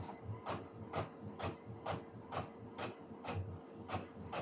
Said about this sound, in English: It's printed quite a few of the pages already.